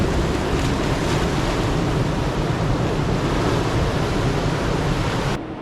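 Strong ocean surf and white water surge against coastal rocks, a loud, continuous roaring wash mixed with wind buffeting the microphone, cutting off abruptly at the very end.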